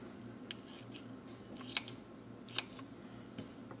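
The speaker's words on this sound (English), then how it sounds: "My knife block has kitchen shears, so that's what I'll use." Kitchen shears snip through sausage casing in two crisp, close cuts about a second apart, with faint clicks and handling noise in a quiet kitchen.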